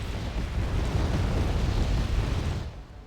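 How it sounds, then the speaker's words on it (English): Mortar fire and explosions in the military strategy game Wargame Red Dragon, heard as a dense, continuous low rumble of overlapping blasts that stays loud and then fades at the end, with no talk. "Mortars, both of them getting ready to fire, and I fire hundreds of rounds between these 8 mortars."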